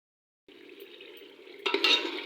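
A plate set as a lid over a pot of home-style palak with yogurt, onion, tomato and ginger-garlic paste lands with a short metallic clink and clatter over a steady close frying hiss.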